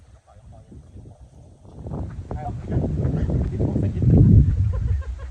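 Gusty wind rumbles and buffets the microphone at a campsite, growing stronger toward the end, with low, muffled noise throughout.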